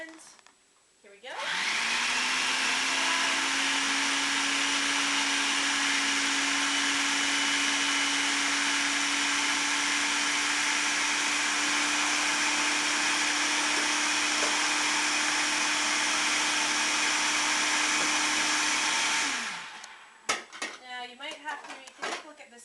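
A countertop blender whirs at a steady high pitch for about eighteen seconds while blending cashews with olive oil, starting and stopping abruptly, followed by clinking and scraping sounds.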